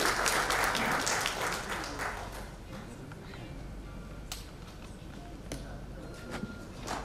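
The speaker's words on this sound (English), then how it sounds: "A round of applause as he's joining us at the podium." Conference audience at the Infocom Dhaka 2024 inaugural ceremony applauds as a speaker walks to the podium; dense clapping fades to scattered claps, with a few sharp snaps, fairly faint and without talk.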